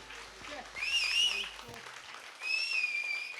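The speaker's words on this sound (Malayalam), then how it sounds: "നല്ലൊരു കൈയടി കൊടുത്തേ" Live audience clapping at a Malayalam stage show, a broad burst of applause that swells, dips and rises again, with voices and music mixed in.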